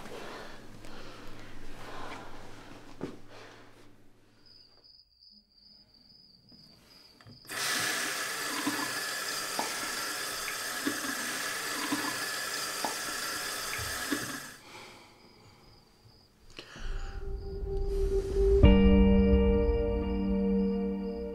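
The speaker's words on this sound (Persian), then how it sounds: "اجازه بده یه آبی بزنم از دست صورتم" A bathroom tap is turned on to splash water on the face. After quiet breathing, the faucet runs in a steady hiss for several seconds, stops, then starts again with louder splashing.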